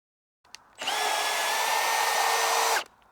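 A power drill fitted with an auger bit bores into lawn soil, giving one steady, loud whine for about two seconds after a brief click, then stopping abruptly.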